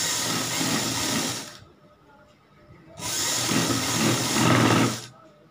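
A sewing machine stitching a cloth collar band runs in two loud close bursts of rapid whirring, about one and a half and two seconds long, with a quiet pause between.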